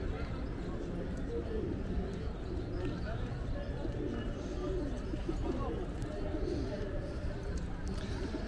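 Pigeons cooing amid the steady hubbub of a busy city plaza in Chihuahua, Mexico, with a continuous wash of crowd noise and footsteps masking the soft bird calls throughout.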